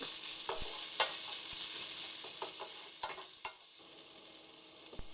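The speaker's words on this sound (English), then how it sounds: "Then add the chopped garlic, the chopped ginger. Stir that for 2 to 3 minutes." Chopped garlic and ginger sizzle in hot oil in a pan, a soft and even frying hiss broken by scattered spatula taps and scrapes as it is stirred, with no voices.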